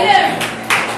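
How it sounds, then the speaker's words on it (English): Claps from a group at a youth basketball team's pizza party, a short dense burst of applause heard close and loud with a voice over it. "big applause for Jaden"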